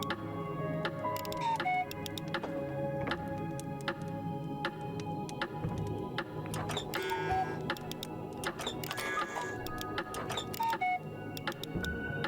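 Mechanical ticking with a tiny ratchet from a device in the video game We Were Here Together, a steady run of sharp clicks with brief tonal chimes, quiet and alone with no talk.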